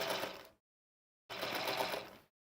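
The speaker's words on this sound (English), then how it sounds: "you're just sewing right along that edge." A sewing machine stitches along the edge of a quilted pillow cover in two fairly loud, close bursts of steady whirring, separated by a short pause of silence.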